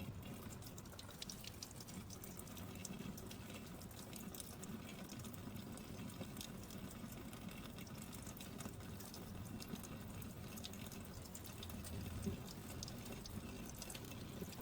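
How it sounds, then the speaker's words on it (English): Clean running water pours steadily from a tap as a child's small soapy hands are rinsed at a sink, a continuous close splashing stream with no talk over it. "rinsed them with clean water"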